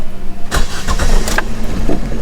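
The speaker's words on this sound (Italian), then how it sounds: "Accendo l'auto." A car with a Fire 1.2 petrol engine, just dosed with engine flush treatment, cranks briefly with several quick starter bursts, then catches and settles into a close, loud idle.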